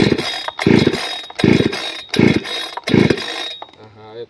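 A EUROLUX GS-5220 petrol chainsaw is pull-started, with about five loud, rhythmic starter-cord pulls close by, a brief sputter, and talk at the end.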